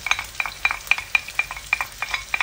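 Onion and garlic sautéing in a pan for pork ribs and belly, a soft sizzle broken by a regular series of sharp scraping stirs, close and fairly loud, with no voices.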